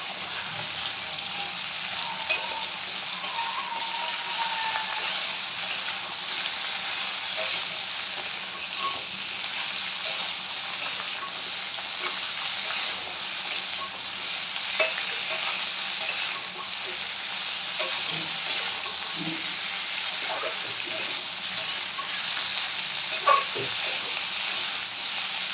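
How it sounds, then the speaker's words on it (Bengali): Malabar spinach and fish head fry in a pan with a steady, even sizzle throughout, with occasional soft scrapes and clinks as the mixture is stirred now and then; no voices. "দেবার পরে আমি এটাকে একটু নাড়াচাড়া করে দেবো।"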